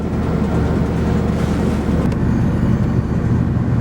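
An RV engine idles steadily during cold-weather boondocking, a continuous low rumble that stays even and close throughout with no voices.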